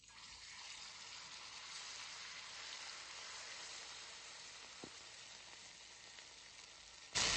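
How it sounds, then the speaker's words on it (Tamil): Steady, loud sizzling of food frying in hot coconut oil in a small pan, crackling evenly throughout with no talking and a sudden burst of noise at the very end. "இப்போ ஒரு சின்ன சட்டியில எண்ணெய் ஊற்றி நான் இதை பொரிக்க போறேன்."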